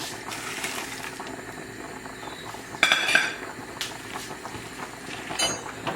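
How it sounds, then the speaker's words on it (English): Soft wet taps and light clinks of flaked fish and prawns going into a dish for a fish pie, a few small bumps against the dish over low kitchen background noise, with no voices. "So in here I'm putting my flaked fish, I'm adding my prawns"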